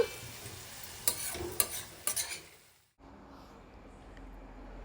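A spoon stirs chunks of bottle gourd curry, still unsalted, in a pan. A few close scraping and clattering strokes ride over a soft sizzle, then the stirring stops abruptly and only a faint low hum remains.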